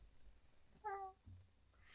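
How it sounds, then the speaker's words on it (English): A single short cat meow, clear but fairly soft, heard over quiet room noise, followed by faint low thumps. "it's a cat."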